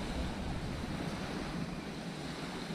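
Waves roll in at Kalivaki beach in Georgioupoli, Crete, a continuous close surf wash mixed with wind buffeting the microphone, with no voices.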